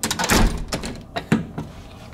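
A hotel room door at the Paris Las Vegas swings shut with a rush of air, a firm thunk and a couple of latch clicks, heard close up without speech.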